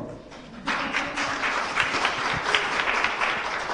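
Studio audience applause for a French television show breaks out abruptly after a near-quiet moment, then holds as a dense, steady wash of clapping without talk.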